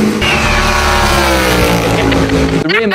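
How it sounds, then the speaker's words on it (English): A NASCAR stock car engine at Le Mans roars loudly and close, revving with rising and falling pitch as it accelerates, then a sharp change as it shifts or passes. "the fundamental components of the engine stayed exactly the same as the stock car, and that meant that it's sounded absolutely awesome"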